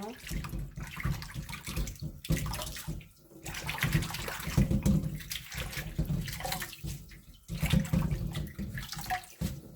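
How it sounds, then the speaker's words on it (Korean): Cold tap water runs while boiled bangpung greens are rinsed in a basin, a steady splashing and sloshing stream with brief pauses between rinses, close and fairly loud throughout. "한 두세 번 정도 헹궈주세요."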